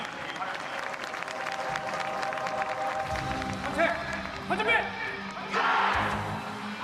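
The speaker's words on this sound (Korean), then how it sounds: "여러분 멋진 시범을 선보이고 있는 최정의 특전 장병들을 다시 한 번 큰 박수로 격려해 주시기 바랍니다" Crowd applause at a special forces taekwondo demonstration during an Armed Forces Day ceremony, a broad outdoor wash of clapping under an announcer's amplified voice, swelling in bursts toward the end.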